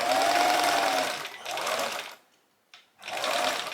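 Sewing machine back stitching to secure a fabric skirt seam, a close steady whir that slows briefly, stops for a moment, then runs again in a short final burst.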